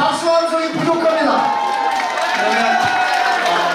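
A New Year gathering audience claps and cheers together, crowd noise and scattered applause rolling on steadily while a voice speaks over the top throughout.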